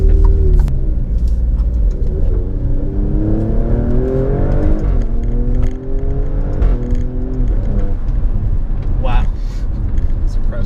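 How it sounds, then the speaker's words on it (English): A 2018 Alfa Romeo Stelvio Quadrifoglio, a 505 hp SUV, accelerates hard from second gear upward, its loud engine note climbing and dropping through several gear changes, heard from inside the cabin. "That was a nice little speed run right there for you guys from 2nd gear onwards"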